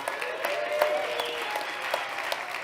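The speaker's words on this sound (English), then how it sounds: "let's clap it up for Evolve." An audience applauds steadily, a dense patter of many hands clapping at moderate volume with no voices over it.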